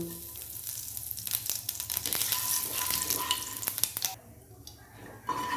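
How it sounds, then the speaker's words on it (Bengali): Nigella seeds crackle and sizzle in hot mustard oil, a busy popping hiss with a few sharp clicks, quieting near the end. "তেল গরম হয়ে গেছে তার মধ্যে দেবো কালো জিরে ফোড়ন"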